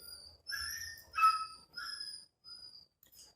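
A dog lets out a series of high, thin whimpers and whining yelps in a quiet room, about five short cries with pauses between them, each fairly faint and heard alone with no talk.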